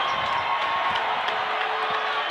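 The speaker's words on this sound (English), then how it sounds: "the crowd is really wild tonight" A basketball crowd at a Baker versus McGill game roars and cheers steadily, a loud, dense wash of voices with scattered claps and shouts that never lets up.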